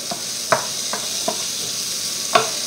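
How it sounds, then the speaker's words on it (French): Mushrooms sizzling in a pan for coconut curry chicken, with a steady fry hiss under a few distinct scrapes of a spoon stirring, close up and with no voices. "on ajoute nos champignons, sans oublier de remuer"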